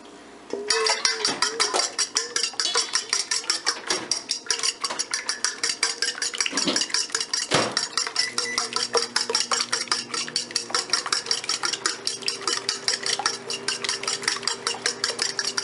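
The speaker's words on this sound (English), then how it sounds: "Next step is to mix up the 4 eggs in a bowl." Four eggs are whisked in a bowl with a fork or whisk, giving a fast, steady rhythm of close scraping clicks against the bowl that runs throughout without a pause.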